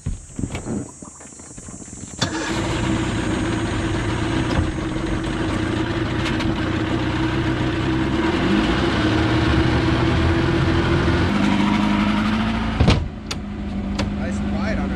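A cheap boat engine fires up after a quiet start and then settles into a steady, loud running drone that holds for most of the stretch, with a brief dip and knock near the end.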